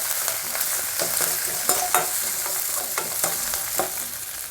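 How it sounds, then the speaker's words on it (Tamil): Green chili, ginger and curry leaves sautéing in hot oil with tempered mustard seeds and urad dal, a loud continuous crackling sizzle broken by regular spatula scrapes against the pan. "அது கூடயே பச்சை மிளகாய், இஞ்சி, கருவேப்பிள்ளை இது போட்டு லேசாக வதக்கிக்கோங்க."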